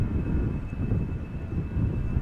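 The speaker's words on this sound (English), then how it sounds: "another EasyJet Airbus underway" EasyJet Airbus A319 airliner at Amsterdam Schiphol Airport, a steady low engine rumble heard from a distance, continuous and without voices.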